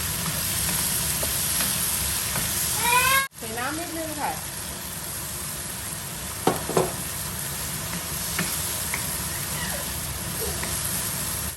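Shrimp stir-fried in a pan with mushrooms and beans gives a steady close sizzle, with scraping stirs and a couple of brief vocal sounds over the hiss.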